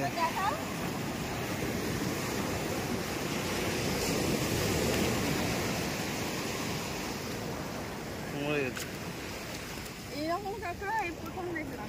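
Sea waves roll onto the beach at Dublagadi in a steady, broad surf roar with wind buffeting the microphone, and people talk briefly near the end.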